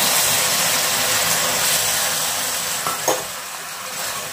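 Water poured into hot, freshly made caramel in a pan for tea, producing a loud, continuous hiss and sizzle that eases slightly toward the end, with a small clink near the close.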